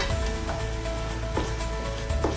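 Three medium tomatoes sizzle steadily in hot oil while frying for a chicken pulao, a continuous close crackle with a few soft spoon-stirring knocks and no talking.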